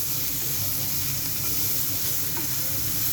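Tomatoes sautéing in a little oil in a pan for fish sarciado make a steady, dense hiss and sizzle, close and continuous for a few seconds with no voices.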